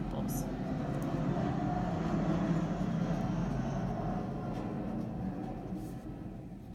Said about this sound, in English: Sorry if you keep hearing the airplanes.